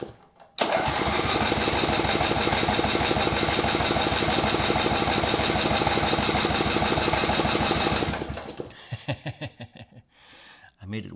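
A small engine on a recently revived vehicle roars steadily at raised throttle for about eight seconds, loud and close. It then cuts out into sputtering, uneven pops as it dies.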